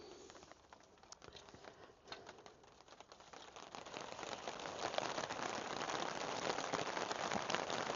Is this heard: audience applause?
no